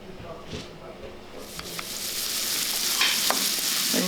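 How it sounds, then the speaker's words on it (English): Onion and garlic sauté in olive oil, a sizzle that swells from a quiet start into a bright, loud hiss, with a few stirring clicks as someone talks over it. "Onion and garlic and olive oil, just so it's golden."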